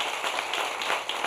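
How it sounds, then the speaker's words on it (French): A studio audience breaks into a short burst of dense, steady applause for a guest on a French-language dating talk show, with many hands clapping close by and no talking over it. "on peut l'applaudir très fort s'il vous plaît"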